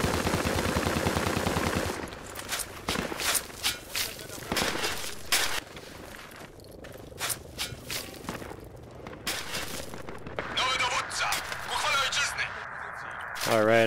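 Heavy machine gun fire in a video game, bursts of quick, hard shots breaking out at intervals, close and loud, with a player talking between and over the volleys.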